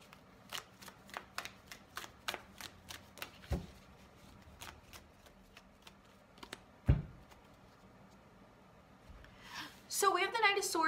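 Tarot cards shuffled and drawn by hand, a series of quick crisp flicks and slaps in a steady run, then a louder riffling burst near the end, close and fairly quiet.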